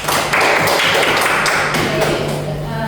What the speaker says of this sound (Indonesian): beri aplaus terus kepada Melda